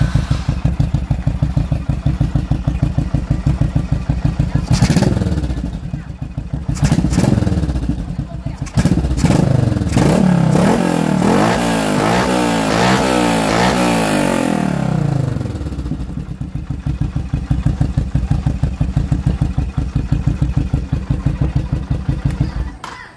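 Honda Shadow 750 motorcycle with a single-carb conversion cranking and firing up, its engine revving and clattering loudly up close, then settling back to a rough idle.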